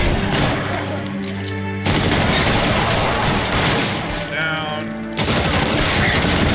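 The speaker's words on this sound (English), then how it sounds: "God, they got a machine gun." Machine gun fire in the video game L.A. Noire, a loud, continuous rattle of rapid shots that runs through the whole stretch, with a brief voice calling out over it.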